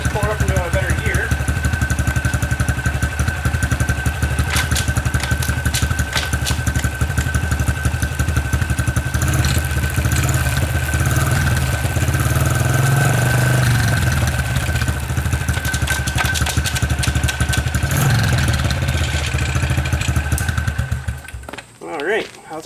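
A Honda CRF110F dirt bike engine runs steadily at a loud, close idle with a rapid clattery pulse and a brief rise in revs midway, then cuts off near the end.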